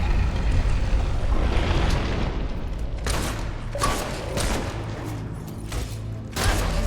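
Gunfire in the video game Fable III, a series of loud broadband shots and booms in irregular bursts, heaviest in the second half, over a constant rumbling game background.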